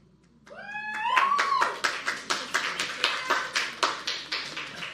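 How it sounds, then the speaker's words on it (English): A short burst of tonal sounds opens, then a run of separate hand claps follows at an uneven, slowing rhythm. The clapping is moderately close and fairly quiet, and no one speaks. "Not sure why you're clapping for that"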